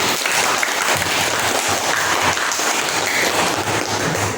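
Classroom applause for a student answering well, a steady wash of many hands clapping close by, dense and even throughout like rain.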